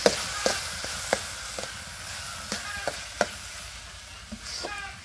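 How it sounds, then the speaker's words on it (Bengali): Pieces of ash gourd sizzle steadily as they fry slowly over low heat in a pan, with a utensil stirring and scraping in sharp, scattered clicks up close. "এখানে আমি আস্তে আস্তে জাল দিয়ে আস্তে আস্তে ভাজতেছি কুমড়োটা"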